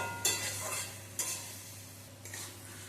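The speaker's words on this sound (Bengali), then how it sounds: "এর মধ্যে ভেজে রাখা ঝিঙেটা দিয়েও আবার একটু কষিয়ে নেব।" Spice paste with fried ridge gourd is stirred in a pan for a light Bengali fish curry, with three distinct scraping strokes of a utensil against the pan over a faint background sizzle, close and alone.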